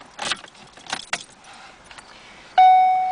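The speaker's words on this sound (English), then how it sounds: "Let's go ahead and grab the key." Car keys for a 2012 Ford Focus jangle in a few quick bursts, close and fairly soft, followed by a steady electronic chime from the car.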